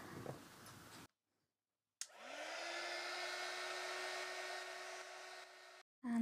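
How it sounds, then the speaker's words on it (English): A heat gun drying coffee-stained craft paper roars steadily at close range for about four seconds, switching on with a sharp start and cutting off abruptly, after brief quiet. "you want to either use a heat gun to dry it"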